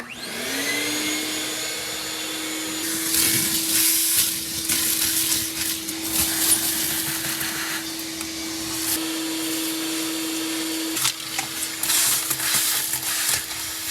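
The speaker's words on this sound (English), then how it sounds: "First, I want to vacuum all the junk out of the engine bay." A vacuum cleaner whines up to a steady hum and keeps running close by in a Porsche 914 engine bay, with rattling and scraping as leaves, dirt and pine needles are sucked up.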